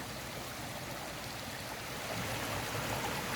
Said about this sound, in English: So they have these bumps in there to regulate the water flow,